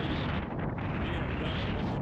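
Strong wind on the North Sea coast roars steadily into the microphone, a dense and constant buffeting rumble that swamps everything else without a break.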